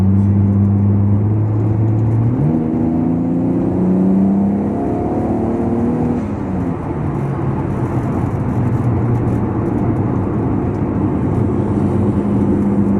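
A Toyota Supra with a turbo engine accelerates hard, the loud engine note climbing through rising gears with shifts along the way, then settling into a steady roar of sustained driving.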